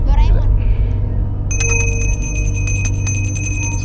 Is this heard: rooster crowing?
no